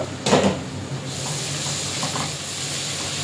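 Onion frying in oil in a pan for an egg dish, a steady broadband sizzle with a brief stir or clatter near the start, close and continuous without speech.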